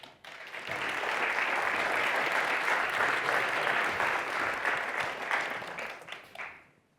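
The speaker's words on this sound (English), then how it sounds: "a warm round of applause for Henrik Svilling from Istudios" Seminar audience breaks into a warm round of applause, many hands clapping in a full, even burst that swells quickly, holds for several seconds, then tapers off.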